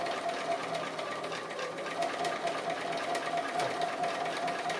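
A sewing machine stitches along the edge of a small fusible appliqué shape, a steady close whirring run of rapid stitches with brief shifts in speed, heard alone without talk.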